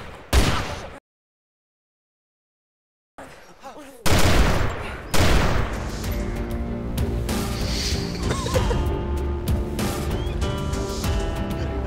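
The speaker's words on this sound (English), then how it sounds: "Is that you shooting over there, buddy?" Gunfire in the DayZ Overpoch mod video game: loud bursts of shots at the start, a silent gap, then a heavy sustained volley of overlapping shots and explosions under occasional voice chat.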